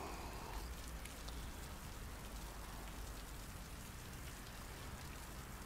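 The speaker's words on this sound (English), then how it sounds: "it looks like it might be raining now" Simulated rain in the American Truck Simulator video game makes a faint, even hiss that holds steady from start to end, with no voices.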